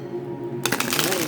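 Tarot cards being shuffled by hand, a sudden burst of rapid riffling flutter that starts partway through and continues steadily, close and fairly loud over a low background hum.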